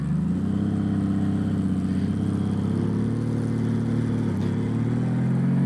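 Steady, loud engine drone of a Honda Valkyrie motorcycle while riding, a continuous low rumble holding nearly constant throughout with a slight dip near the end.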